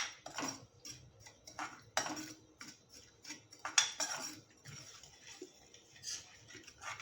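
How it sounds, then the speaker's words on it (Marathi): A spoon scrapes and clinks against a pan as semolina is roasted and stirred in ghee over low heat, giving quiet, irregular metallic taps and scrapes at close range. "मंद गॅसवरती छान असा रवा आपल्याला मिनिटभर भाजून घ्यायचा आहे"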